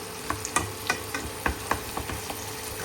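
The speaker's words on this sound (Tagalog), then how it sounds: "Kasi gusto kong i-fry yung tomatoes" Tomatoes frying in a pan, crushed and stirred, giving a continuous sizzle punctuated by a dozen or so close spatula scrapes and taps at an uneven rhythm.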